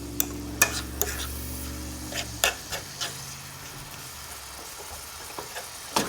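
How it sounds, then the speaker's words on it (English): A fork pushing frying meat back into the center of a pan for a ramen noodle casserole, a soft sizzle under repeated scraping and tapping strokes, several sharp clicks of metal on the pan, close and without talking. "take your fork as well and push your meat like back into the center of the"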